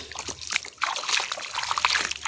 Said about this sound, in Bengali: কুমড়াটা আমি ধুয়ে নিচ্ছি।